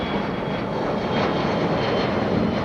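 Steady, loud roar of an Embraer E2 jet at Raleigh Durham airport, a continuous broadband engine rumble heard from a moderate distance with no voices.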